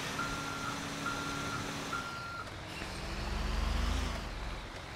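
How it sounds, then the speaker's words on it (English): A cargo loader in GTA 5 drives off with its reversing alarm beeping in regular evenly spaced pulses over a low engine rumble that swells briefly near the end, without talk. "So we'll move this cargo loader out of the way."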